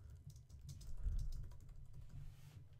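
Soft, quiet clicking of a computer keyboard as text in an Edge Animate template is replaced, with keystrokes faint under a steady low hum.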